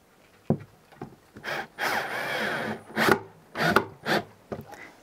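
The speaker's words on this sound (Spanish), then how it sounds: "Y volvemos a poner otro tornillito acá de una pulgada." A one-inch screw is driven into the wood of a handmade Peruvian cajón in several short, grinding bursts, close and distinct with brief pauses between.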